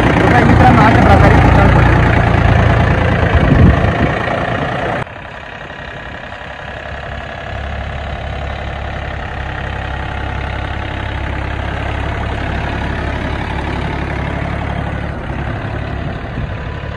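A Mahindra Oja tractor engine runs steadily nearby, a louder rumble at first that settles into a lower, even drone for the rest of the stretch.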